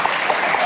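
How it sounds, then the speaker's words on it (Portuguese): An audience bursts into applause, a brief, close burst of many hands clapping that stays even and dense throughout. "Salve de palmas."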